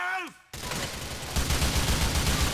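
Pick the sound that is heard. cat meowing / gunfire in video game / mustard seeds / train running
gunfire in video game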